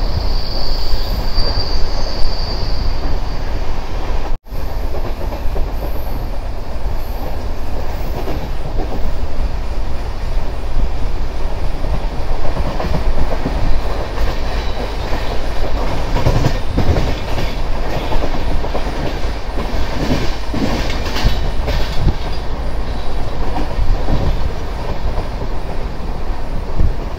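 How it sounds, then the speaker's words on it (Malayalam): A Charminar Express sleeper coach rumbles along loudly, heard from inside, with steady wheel clatter, metallic squeals and a brief dropout near the start. "ട്രെയിൻ ഇപ്പോൾ താമ്പരം റെയിൽവേ സ്റ്റേഷനിലേക്ക് എത്തിക്കൊണ്ടിരിക്കുകയാണ്"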